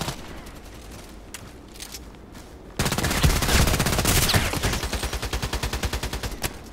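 An RPK machine gun fires in the video game Contract Wars: after a quieter stretch, a loud, rapid burst of close automatic shots breaks out and continues as a steady, pulsing rattle of evenly spaced rounds.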